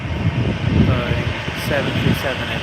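A Boeing 737-800 roars steadily nearby in a broad jet-engine rush that swells slightly and then holds.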